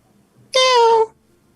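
A person imitates a cat's meow with a single drawn-out, nasal vocal cry, loud and close, standing alone against quiet room tone.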